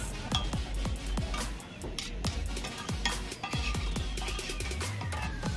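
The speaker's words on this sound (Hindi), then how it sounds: "और ये आलू भैया मक्खन में फ्राई कर रहे" Potatoes fry in butter on a griddle for a cheap street-stall burger, a steady sizzle broken by a rapid series of sharp metal spatula scrapes and taps close by, with no talking.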